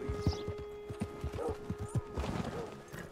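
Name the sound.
horse hooves in video game Red Dead Redemption 2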